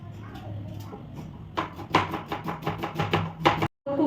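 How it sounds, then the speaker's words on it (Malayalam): A knife chops food quickly in a home kitchen: after a quieter stretch with low background hum, about a dozen fast, evenly spaced, crisp strikes sound close by over two seconds before stopping abruptly. "സ്പീഡിൽ അരിയണം കേട്ടോ."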